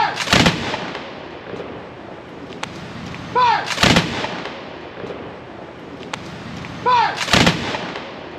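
Reenactment soldiers fire three loud musket volleys at a Firewalk 2022 event, each a sharp crackling burst with shouted commands, then a long rolling echo fading between shots.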